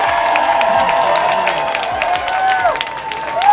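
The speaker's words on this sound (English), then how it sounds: "Let's give one more round of applause to our contestants and to our judges." Audience at a live singing competition show applauds contestants and judges, a steady wash of clapping and crowd noise with some cheering throughout, fairly loud and continuous.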